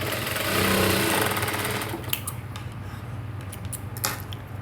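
An electric sewing machine stitches a blouse seam in a close, fast buzzing run that stops after about two seconds, followed by quiet clicks and fabric handling.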